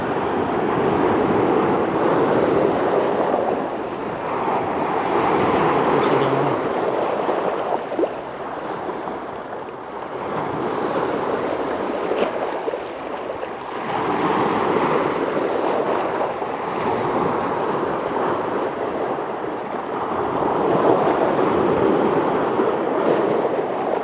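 Waves from a lake near Lutsen, Minnesota wash ashore in a loud, continuous surge that swells and recedes every few seconds, with wind buffeting the microphone and no talking.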